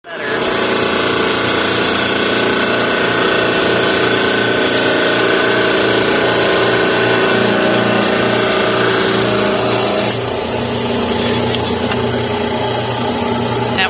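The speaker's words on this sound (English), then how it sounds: "I'll start cutting some of the stones." A trim saw with a 7 or 8-inch blade cuts turquoise and fordite stones, giving a steady, loud whining drone that runs throughout with a slight change in tone near the end.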